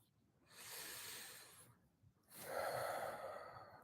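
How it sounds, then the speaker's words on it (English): Slow, deep breaths during a guided breathing exercise, two long airy exhalations with a short pause between them, close and quiet with no talking. "We're going to take this time to just take some deep breaths."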